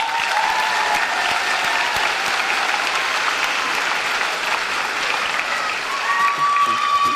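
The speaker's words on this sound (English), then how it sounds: "Give them a round of applause." Sustained applause from a high school graduation audience, dense steady clapping filling the hall for about seven seconds, with a faint voice or crowd murmur mixed in near the end.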